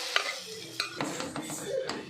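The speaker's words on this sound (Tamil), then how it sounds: "இது நல்லா கொஞ்சம் கிளறி விட்டுட்டு" A spoon stirs mashed mung dal in a cooking pot for a Chettinad ukkarai sweet, giving soft scraping and clinking strokes against the pan over a quiet sizzle, close and unhurried.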